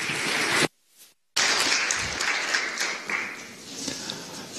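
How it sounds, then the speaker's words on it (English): An audience claps and applauds a speaker at a tech talk, a steady wash of clapping that briefly cuts out, then resumes and carries on until the end. "Applause, please."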